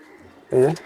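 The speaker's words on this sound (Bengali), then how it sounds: "বড় পাখার কবুতর" A Pakistani-breed pigeon in a loft gives one short, loud coo up close after a quiet moment.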